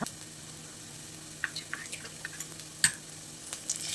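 Onions frying in a pan for chicken curry give off a faint, steady sizzle, broken by a few sharp clicks and taps of stirring close by.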